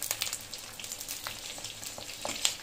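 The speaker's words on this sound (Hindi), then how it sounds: "तो मिर्चा ना आप फ्राई कर लाँगे" Green chillies fry in hot oil for a pickle, giving a continuous moderate sizzle and crackle with small pops and a brief stirring scrape, and no voices.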